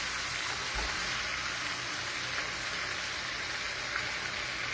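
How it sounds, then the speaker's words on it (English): Oxtails and vegetables sautéing and simmering in a pot, a quiet, even sizzling and bubbling hiss that continues without a break and without talk. "I'm just going to stir them in a little bit in the oxtails and let them simmer slowly"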